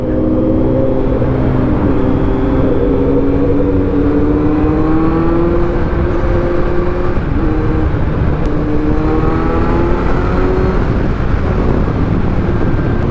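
A 2022 Kawasaki Z900 motorcycle engine fitted with an exhaust silencer hums loud and steady while riding, its muffled note rising and falling through gear changes.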